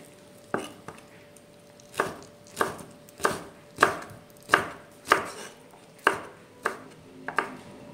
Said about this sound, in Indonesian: Untuk jamur kupingnya kita potong panjang-panjang ya.